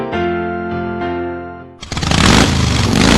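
A motorcycle engine revs hard and rattles loudly in a Spanish-language radio advert, coming in suddenly after a sustained musical tone and building with choppy, rising bursts.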